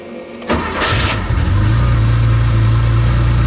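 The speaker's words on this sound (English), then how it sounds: "Starting the car," A Porsche 930 Turbo engine cranks and catches, then settles into a loud, steady idle that carries on without pause.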